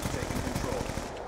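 A PGW rifle in Black Ops 2 fires in a rapid, dense burst of gunshots, loud and close throughout, with a voice faintly underneath.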